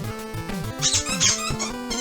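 A small dog squeaks a squeaky toy during a tug of war, giving repeated rubbery squeals with a few sharper, brighter peaks, close and continuous with no talk.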